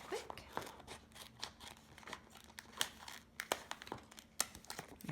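Scissors snipping through sticky, reusable heat transfer vinyl, with quick, faint crisp cuts and crinkling of the sheet in an irregular rhythm, close by and quiet.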